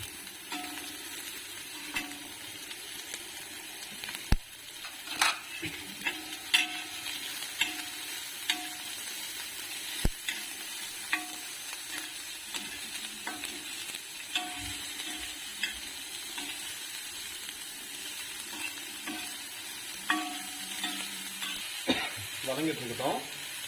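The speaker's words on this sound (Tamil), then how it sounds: "இப்போ வெங்காயம் சேர்த்துக்கலாம்." Onions with green chillies sautéing in a pan for a spicy ragi dish, a steady soft sizzle under scattered clicks and taps of a stirring spoon, with faint voices in the background.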